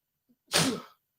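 A single sharp sneeze, close and loud, preceded by a faint quick intake of breath, then silence.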